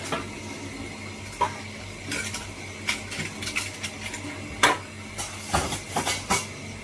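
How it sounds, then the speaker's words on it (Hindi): Metal spoons being washed at a sink: scattered light clinks and clatters over a steady wash of running water, close and fairly quiet, with no talking. "चलिए चम्मच भी वॉश करें।"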